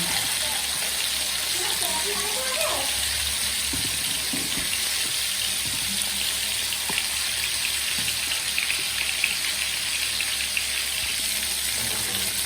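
Continuous, moderately loud sizzling of fish frying in mustard oil, a steady crackling hiss with faint scattered clinks and murmurs in the background.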